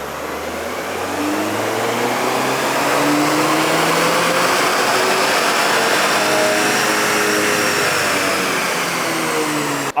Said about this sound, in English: Alrighty, Payam, let's go ahead and set it to map 0 and get this dyno on the way.